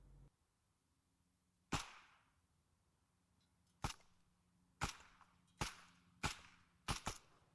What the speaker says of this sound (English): I'm just gonna shoot then